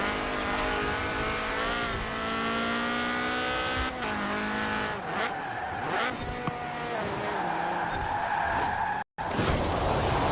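A Quartz Regalia in Forza Horizon 4 slides through corners with long tire squeals and skidding over a constant engine drone, the pitch bending as the car drifts, with brief talk over it.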